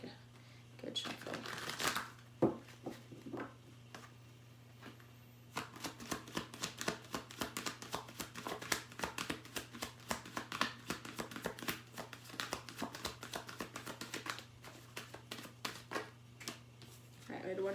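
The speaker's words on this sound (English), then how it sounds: "I'll give my deck like a good shuffle." A tarot card deck is shuffled by hand in repeated bursts of crisp riffling and slapping card sounds, close and quiet over a steady low hum.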